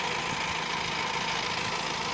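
A 2014 Honda Amaze 1.5 SMT diesel car engine idling, a steady close rumbling drone with even texture and no change in pace, no voices.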